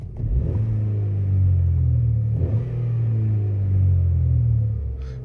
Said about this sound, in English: give it a rev for you